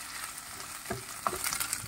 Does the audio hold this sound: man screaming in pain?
no